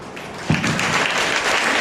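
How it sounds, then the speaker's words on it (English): Audience clapping at a prayer meeting, a short burst of applause that swells in and holds steady, close and moderately loud with no talk over it. "Let us give them a clap."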